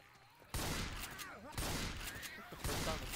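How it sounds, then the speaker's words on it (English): Shotgun blasts in the Left 4 Dead 2 zombie shooter, three loud booming shots spaced about a second apart, each with a sharp attack and a long ringing decay. "Shotgun blast."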